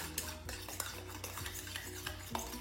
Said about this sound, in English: I'm just going to beat it all together.